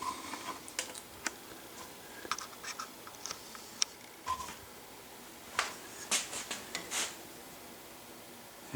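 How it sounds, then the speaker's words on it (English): A safe-edge file scraping a step into a gun's butt plate during lower stock work, heard as scattered short, sharp rasping strokes, close but fairly quiet, with uneven pauses between strokes and no voice. "I'm going to go ahead and cut the step in the butt plate. And all I do is simply file that."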